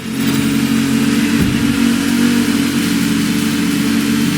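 Racing boat engines rev hard in The Crew Motorfest during a water race, a loud, steady roaring drone that holds at full throttle throughout with a slight dip midway.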